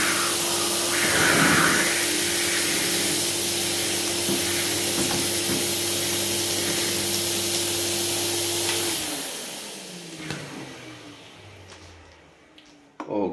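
Vacuum cleaner with blower function running on suction to clear its hose before PC cleaning, a steady loud broadband rush with a hum that cuts off near the end, leaving quiet handling noises.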